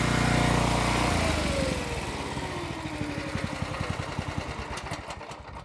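The small motor on an Eastonmade 9-16 hydraulic log splitter runs nearby, easing from a louder roar into a steady, pulsing idle with a rapid even chug.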